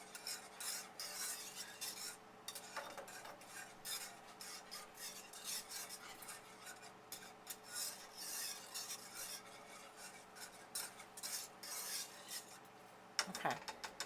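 Steady metallic whisking and stirring of a lemon cream cheese glaze in a pan, with a constant rasping texture and occasional clinks, close by and fairly quiet.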